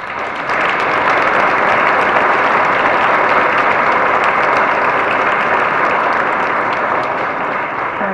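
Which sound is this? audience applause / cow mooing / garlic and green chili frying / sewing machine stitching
audience applause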